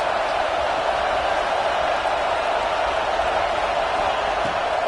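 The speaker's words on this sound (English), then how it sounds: "Big 3rd down as the crowd gets behind this defense." Steady roar of a large football stadium crowd during a college game against UCLA, loud and continuous for the whole stretch, swelling behind the defense on a third down with no individual voices standing out.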